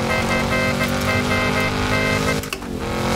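A car in Fortnite drives steadily with a loud, continuous engine drone and a rumbling tone, briefly dipping near the end, with no talk over it.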